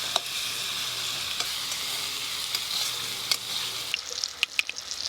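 Chopped tomatoes with salt frying in a ginger-garlic masala, a steady close sizzle that eases near the end, broken by a few sharp clicks of a spoon against the pan.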